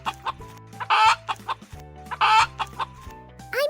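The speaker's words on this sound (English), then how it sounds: "I'm Chirpy the chicken. I wake up early and say cluck cluck all day long." Farm chickens cluck in quick bursts, a close and fairly loud run of short clucks broken by a few louder squawks, over a low background drone, with no speech.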